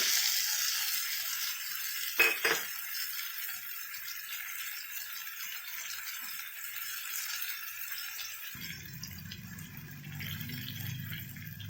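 Coriander sizzles in a hot dal tadka, a faint hissing crackle with a rattle of utensils early on, then a low steady frying hum toward the end, no talk.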